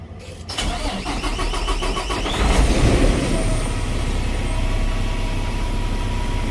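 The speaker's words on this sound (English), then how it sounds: "after you've changed that first fuel filter, you want to crank it up." A starter cranks in a rapid rhythmic chug for about two seconds before a Paccar diesel truck engine, just after a fuel filter change, catches and settles into a loud, steady rumbling idle.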